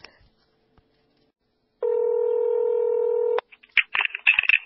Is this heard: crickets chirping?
no